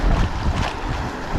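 A northwest wind blows at sea during a fishing trip, a steady broadband roar buffeting the microphone throughout, loud and close with no voices.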